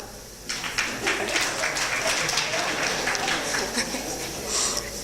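Applause breaks out at a Rotaract club installation ceremony in Kampala, many hands clapping steadily at moderate volume after a brief quiet start, with a murmur of voices underneath.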